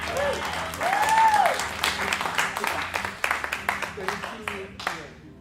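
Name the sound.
audience applause at open mic jazz jam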